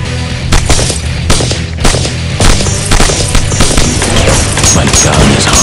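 Rapid automatic gunfire in the shooter Evolution: Battle For Utopia, Bunker Sector level, with loud, dense bursts of shots crackling continuously over a rumbling game soundtrack.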